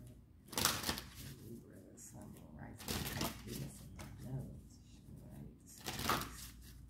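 Tarot advice cards are shuffled in three close bursts of crisp riffling and flicking, with soft handling noise and quiet murmuring between them.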